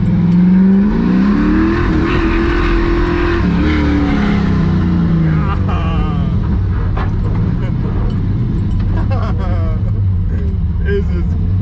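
A 50-year-old Chevrolet Camaro on a Saturday cruise night, its loud engine rumbling and rising through revs from inside the cabin while people talk over it continuously.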